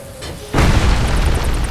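A bomb detonates in the video game Lara Croft and the Temple of Osiris: a sudden, loud, close boom that cuts in abruptly and leaves a sustained rumbling roar.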